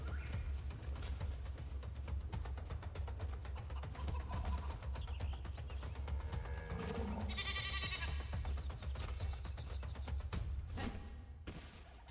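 Goats bleat on a farm in the Enshrouded game, a few distinct cries rising over a steady low rumble of background game ambience with no talking.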